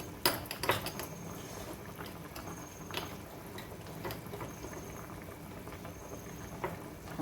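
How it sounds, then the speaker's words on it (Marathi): Masala curry for mutton bubbling in a pot as it reaches the boil, a steady faint patter of popping bubbles with a few light clinks of utensils, close, no talk. "आणि इकडं उकळी आली"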